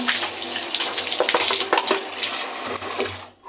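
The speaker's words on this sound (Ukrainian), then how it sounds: "Выливаем, промываем." Water poured out of a hamster house and rinsed, with close, continuous splashing and running water that fades out at the end.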